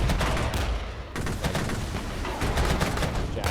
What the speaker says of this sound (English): Jaguars firing.